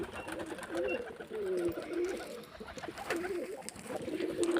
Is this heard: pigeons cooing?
yes